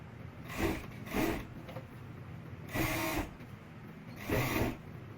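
A home sewing machine stitches a garment pattern modification in short bursts, three or four runs of about half a second each separated by pauses, moderately loud over a steady faint background hum.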